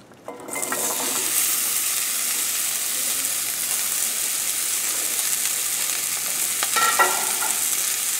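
Vegetables drop into a pot of hot, dark roux for a pork shoulder stew and set off a loud, steady sizzle, with stirring and a few scrapes against the pot underneath, and no talking.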